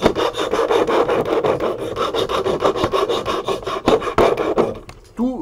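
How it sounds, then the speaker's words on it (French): A metal file rasps steadily against the edges and corners of a replica gun, with a dense run of close scraping strokes that stops briefly near the end. "avec la lime, j'ai frotté un petit peu"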